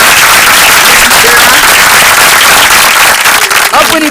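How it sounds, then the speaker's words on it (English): An indoor audience at a family bonding event applauds. Dense, loud clapping continues steadily throughout, with scattered voices mixed in. "A round of applause"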